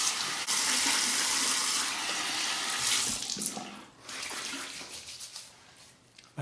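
Tap water runs into a sink to warm a face before a wet shave, a loud steady gush for about three seconds that then turns into softer, broken splashing and trickling.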